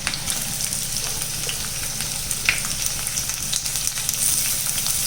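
Chopped onions sizzle and fry steadily in a hot pan while cooking fried chicken rice, a dense continuous crackle with occasional sharper pops and stirring scrapes, close and fairly loud, no voices.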